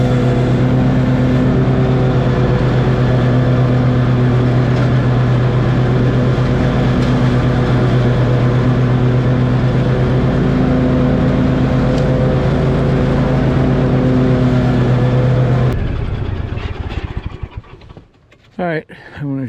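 A Toro TimeCutter riding mower's engine runs loud and close with a steady, even hum for about sixteen seconds, then cuts off, leaving a few short clattering noises.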